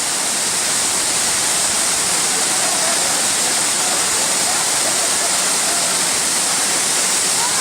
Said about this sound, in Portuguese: Temos mais 9 cachoeiras para ver e o Rafael já está se divertindo.